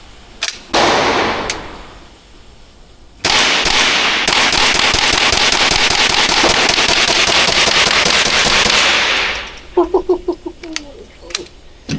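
A gun fires at an indoor shooting range in Miami: a couple of sharp cracks, then a long rapid string of loud shots for several seconds, followed by a few scattered bangs and clatter.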